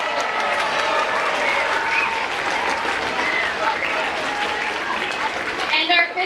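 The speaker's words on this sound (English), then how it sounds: "How about one more round of applause for our 5th grade students?" Loud, sustained applause from parents and guests at an elementary school 5th grade promotion ceremony, a thick roar of clapping with crowd voices and cheers mixed in, brightening briefly near the close.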